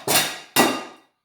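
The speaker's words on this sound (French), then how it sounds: "c'est le bruit de l'Arcopal" Two bright clinks of Arcopal glass tableware knocking together, close and loud, each ringing out and fading quickly.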